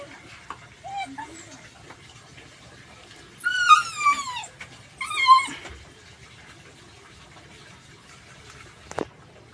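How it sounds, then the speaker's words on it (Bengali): A male American greyhound gives two bursts of high, drawn-out whimpering yelps, with quieter noises and a sharp click between and after. "ও হচ্ছে সম্রাট ছেলে কুকুর"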